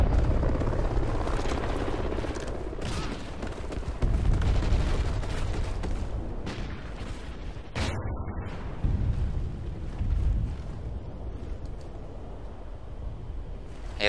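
Weapon fire rattles through a free-for-all match on the Warhawk map in Call of Duty: Ghosts, dense bursts and booms over a continuous helicopter-like roar that fills the whole stretch.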